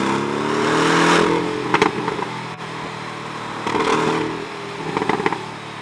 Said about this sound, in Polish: przede wszystkim zmienił się dźwięk silnika